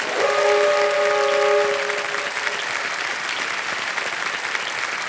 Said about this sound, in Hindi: एक बार फिर जोरदार तालियां बज जाएं इनके लिए।